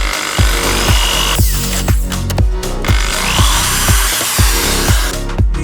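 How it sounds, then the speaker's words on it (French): A power drill fitted with a small bit bores new speaker holes through the rear parcel shelf of a Honda Accord coupé, giving loud, close bursts of whirring and grinding, with the rhythmic thumps of music heard alongside. "Je prends la perceuse, une petite mèche et allez, c'est parti."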